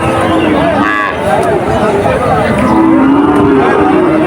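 Cattle low at intervals amid a busy outdoor crowd at a cattle market in Manirampur, Jessore, Bangladesh, with steady chatter and background hubbub throughout.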